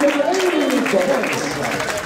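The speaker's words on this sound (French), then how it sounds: "Vous pouvez l'applaudir une nouvelle fois." At an equestrian show-jumping event, an audience applauds steadily for a clear round, a dense even wash of clapping while a voice carries over it.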